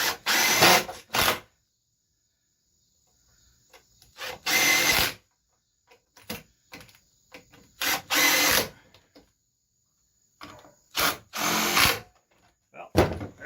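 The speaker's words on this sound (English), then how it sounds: "It's a really good drill." Several short bursts of a cordless power drill whirring while building a wooden garden bench, each lasting about a second, separated by quiet gaps and faint clicks; close and fairly loud.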